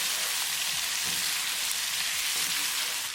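Cauliflower and potato fry with onions in a pan on medium heat, giving a steady, dense sizzle with faint stirring scrapes underneath, close and loud throughout, with no voices.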